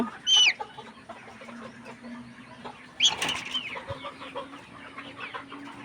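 A hen with a swollen, closed eye lets out a sharp squawk, then a second cry a few seconds later with soft clucks and brief wing flutter between, close by.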